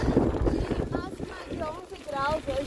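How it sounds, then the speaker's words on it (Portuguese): Steady wind buffeting a microphone as a cyclist rides against a mild, cold headwind, a low continuous rumble with some faint tonal whistling mixed in. "Tá ventando um pouco contra, mas é um vento não tão forte, tá de boa."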